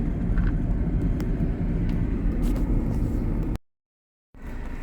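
A Ford Transit van with a faulty transmission that has lost third and fourth gears drives along, giving a steady loud engine and road rumble that cuts out abruptly near the end, then resumes briefly.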